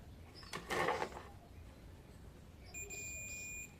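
Multimeter continuity beep while a fuse is tested on the meter's probes: a steady high electronic tone starts late and holds to the end, with a brief scraping contact noise of the probes heard earlier.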